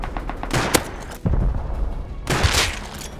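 Sniper rifle shots in Rust sound as several sharp, loud cracks spaced about a second apart, each followed by a brief echoing rumble.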